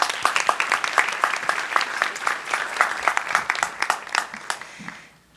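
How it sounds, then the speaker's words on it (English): Applause from a modest audience at a high school senior awards ceremony, individual claps distinctly audible in a steady patter that tapers off and stops after about five seconds. "Please join me in giving them a well-deserved round of applause."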